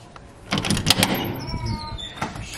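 An apartment door is handled with a clatter and clunk as it opens, close and brief, followed by faint rustling.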